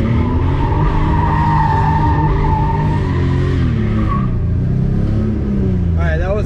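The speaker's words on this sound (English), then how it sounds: "There goes the first donut ever in the 535." A BMW E34 535 with an open differential spins through a donut, tires squealing and skidding continuously while the engine revs loudly; a person talks over the noise.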